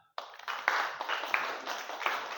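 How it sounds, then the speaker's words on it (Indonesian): Hands clapping in applause from a group during a teacher coaching session, a dense, steady burst of claps that starts abruptly and holds at an even, moderate level with a few sharper peaks. "Tepuk tangan."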